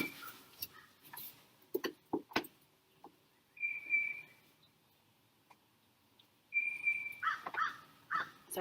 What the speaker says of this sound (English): I gotta look at this bird.